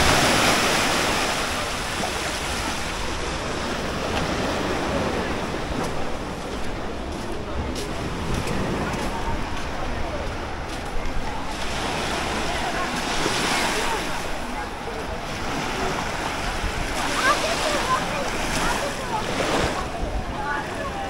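Ocean surf rolls in steadily at Labuan Sait beach in Uluwatu, Bali, a continuous hissing wash with periodic swells of breaking waves and some wind noise, and a person speaks over it.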